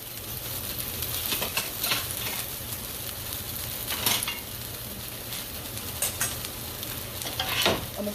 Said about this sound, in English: Now I'm going to pan up my peppers and onions.